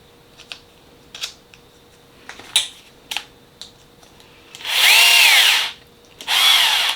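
Power driver running in two sustained bursts while screwing together parts of a YCC ASC10B radio-controlled car kit, preceded by scattered light clicks and taps of small parts being handled, close and fairly loud.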